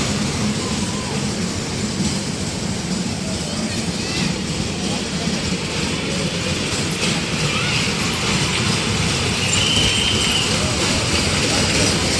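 A passenger train runs on rails with a loud, steady rumble and rattle throughout, and voices can be heard faintly beneath the noise.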